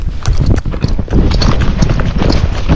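A Tennessee Walking Horse mare, a gaited horse in training, canters uphill, her hooves drumming in a quick, uneven rhythm close by over a low rumble of movement.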